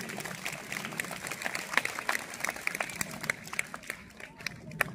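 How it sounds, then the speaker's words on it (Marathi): Audience applause at a village lecture marking martyr Vishnu Ganesh Pingle's birth anniversary: scattered, fairly faint clapping from a crowd, with irregular sharp claps rising and falling over several seconds. "टाळ्यांचा कडकडाट झाला पाहिजे."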